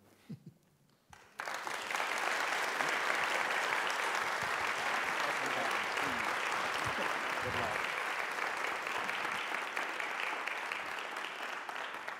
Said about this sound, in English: If we could, one more time, have a round of applause for John Corey Whaley, Phil Klay, Fred Moten.